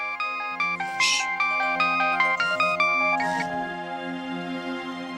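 A phone ringtone plays a repeating melodic electronic tune, loud and close, steady throughout with no one talking over it.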